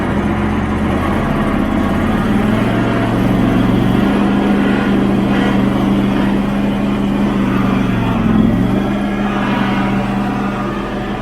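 A Canycom Razorback tracked carrier's engine runs loud and steady close by, its pitch rising and shifting a few times and dipping briefly near the end, with no talk over it.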